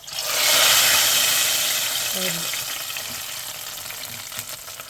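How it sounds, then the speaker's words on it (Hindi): Tempering spices sizzle and crackle loudly in hot oil, swelling quickly then settling into a steady frying hiss, with a faint voice briefly in the background. "यहाँ पे लगने लगा है तड़का।"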